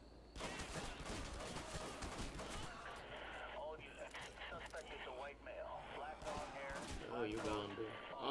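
Rapid gunfire from a shooter video game, bursts of shots crackling loudly and repeatedly through the whole stretch, mixed with game effects and a voice talking over it.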